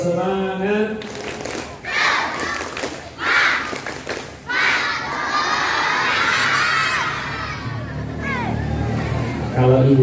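A group of schoolchildren performs a spirit clap chant, with loud rhythmic clapping bursts and shouted group chanting that swells into sustained cheering and crowd noise.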